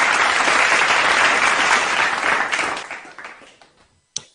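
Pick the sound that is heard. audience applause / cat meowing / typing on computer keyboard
audience applause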